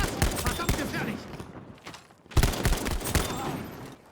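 Suppressed M3 submachine gun fire in Battlefield V, two dense bursts of rapid muffled shots separated by a short pause, close and loud.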